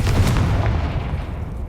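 A Confringo blasting spell explodes in the video game Hogwarts Legacy. One loud, deep boom with a rumbling tail fades out over about a second and a half.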